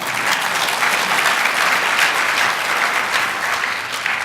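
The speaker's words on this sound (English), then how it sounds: "She deserves that round of applause" A lecture audience gives a warm round of applause for the speaker's wife, a full, close, even burst of clapping lasting about four seconds with no talking over it.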